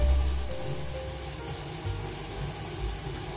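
Diced bacon and corn kernels stir-fried together in a pan give a continuous close sizzle, with a few low bumps from the spatula moving the food.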